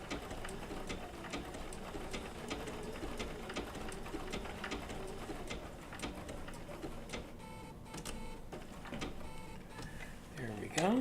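A Bernina B790 PRO sewing machine fitted with an open toe foot stitches wool applique in a steady rapid mechanical patter, close and continuous, with a voice talking over it at times.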